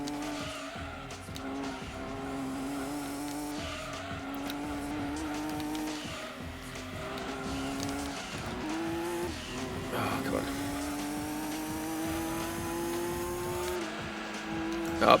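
Race cars in Gran Turismo 2, including a Skyline, with engines droning and shifting pitch steadily up and down as they lap, tire squeal mixed in, under ongoing talk.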